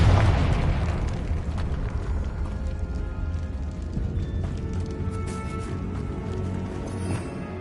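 A Confringo fire spell blast from the Hogwarts Legacy video game, a loud booming explosion that opens with a sharp burst and rolls into a sustained roar that slowly fades.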